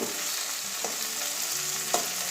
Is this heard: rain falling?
no